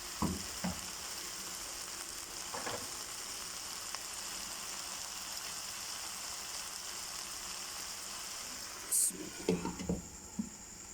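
Okra masala (bhindi) sizzles steadily in a covered pan while steam-cooking, a constant frying hiss that runs alone throughout, with a few brief clatters of the lid or utensil near the end.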